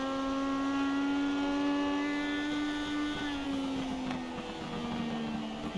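A Legend series race car engine on track, a steady high engine tone that sags and changes pitch as the driver backs off, heard from a distance, with no talking.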